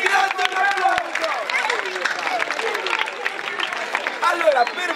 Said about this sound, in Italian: Grazie, un applauso.